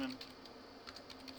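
Quiet, light typing on a computer keyboard while writing code, a handful of soft scattered keystrokes under faint background hum.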